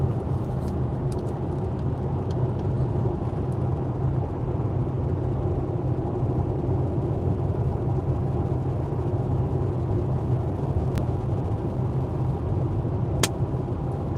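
Steady low rumble of tyres and engine as a Ford Capri drives across the Uddevalla bridge, a constant road drone heard from inside the car with a couple of faint clicks.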